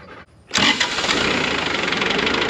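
A tractor engine cranks briefly, then catches at about half a second and settles into a loud, steady running idle close by, with no talking.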